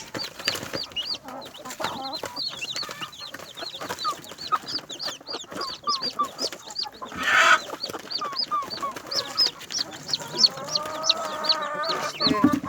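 Newly hatched chicks peep in a rapid, continuous chorus of high, close cheeping, with a brief louder burst partway through and no talking.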